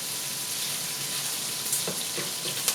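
Pork belly frying in hot oil, a steady loud sizzle and crackle throughout, with a few sharper pops near the end and no talking.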